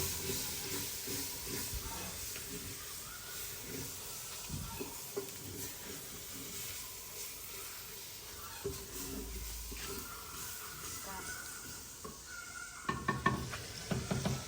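Masala roasting in a pan, frying with a steady sizzle and hiss while a spoon stirs and scrapes the metal, with a burst of louder clattering strokes near the end; close and continuous.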